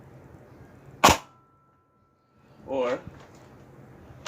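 A Nerf Rival Artemis XVII-3000 blaster fires once with a single sharp, close crack, followed a moment later by a brief spoken word.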